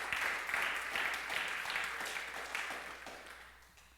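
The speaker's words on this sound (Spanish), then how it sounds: "Dele un aplauso fuerte al Señor" A church congregation claps loudly for the Lord during a Sunday service, with dense, rapid clapping that gradually tapers off over a few seconds, no voices audible.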